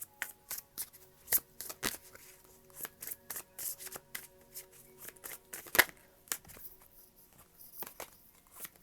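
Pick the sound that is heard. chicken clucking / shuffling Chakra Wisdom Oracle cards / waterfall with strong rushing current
shuffling Chakra Wisdom Oracle cards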